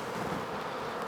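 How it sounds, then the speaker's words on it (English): Honeybees buzzing during a hive inspection, a steady, close, dense hum of many bees swarming around the open frames, even and continuous with no speech. "The bees are a bit confused now."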